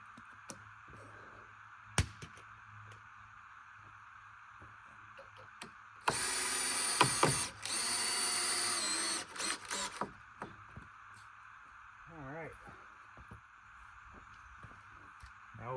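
Power drill driving screws into a wooden barn door for a generator shed, a few seconds of loud, steady whirring close by, with scattered clicks and knocks before and after.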